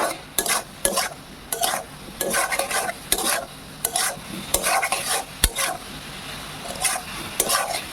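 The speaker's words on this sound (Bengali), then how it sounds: "দিয়ে এখন ভালো করে নেড়ে ভেজে নিচ্ছি।" Squash, potato and soybean chunks, seasoned with salt and turmeric, are stirred and fried in a pan: repeated close scraping strokes of a spatula in a steady rhythm over a low sizzle, with occasional metallic clinks.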